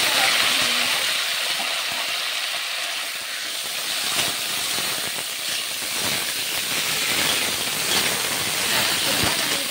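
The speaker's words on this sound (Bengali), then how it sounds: "তেলটা গরম হয়ে গেছে, এরপর আমি ফুলকপিগুলো ভেজে নেব।" Cauliflower florets fry in hot oil in a wok for a village-style chicken and cauliflower curry, giving a loud, continuous sizzling hiss with crackles throughout and no talk.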